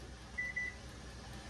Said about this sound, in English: The timer is about to go on.